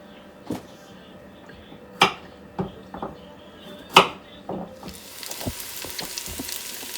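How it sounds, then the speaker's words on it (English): Celery sauteing in an Instant Pot for chicken noodle soup, a soft steady sizzle broken by a few sharp stirring clicks and taps, the frying hiss growing brighter and fuller toward the end. "we'll come back once that is sauteing good"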